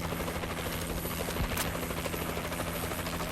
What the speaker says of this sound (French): Drone allié au-dessus.